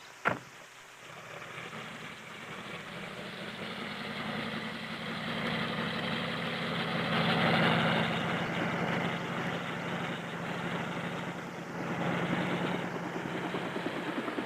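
Steady drone of a helicopter engine and rotor over Antarctic ice, constant and fairly close, with a sharp click at the start and no voices.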